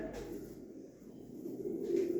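Pigeons coo at a live pigeon auction, a soft, low, continuous burbling close by that swells slightly toward the end.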